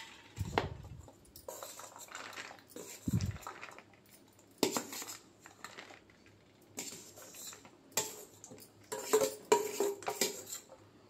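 Crispy jackfruit seed snack being tipped and scraped onto a plate, with a series of clinks, rattles and scrapes of metal utensils against dishware, arriving in separate bursts with quiet gaps between.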